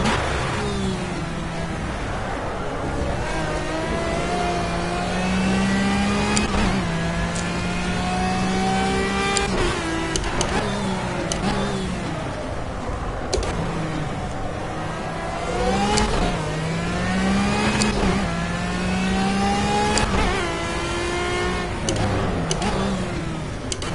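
A Formula A race car engine in the video game Project CARS revs continuously, pitch climbing and dropping repeatedly through gear shifts, steady and loud with no talking.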